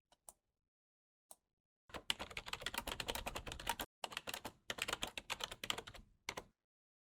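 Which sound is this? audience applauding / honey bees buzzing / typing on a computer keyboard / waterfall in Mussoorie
typing on a computer keyboard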